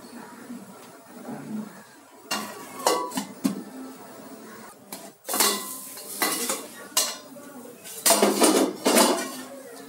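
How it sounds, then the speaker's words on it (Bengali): Metal clatters and clanks against a pot as a lid is set over basanti pulao, with scattered sharp knocks and scrapes near the end and some faint background voice. "ঢাকা দিয়ে দেব।"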